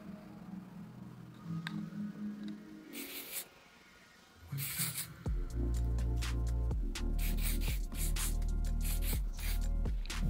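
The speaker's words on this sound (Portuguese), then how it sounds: "Agora eu vou usar o auxílio do pente garfo para puxar mais um pouquinho e do hair spray." Hair spray hisses onto styled hair in two brief bursts, the second longer, before steady rhythmic background music takes over.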